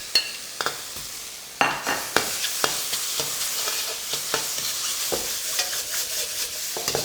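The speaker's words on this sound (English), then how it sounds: "Your mushrooms can go in." Mushrooms stir-frying in a wok for Korean japchae, a steady close sizzle broken by sharp scrapes and clinks of a utensil against the pan.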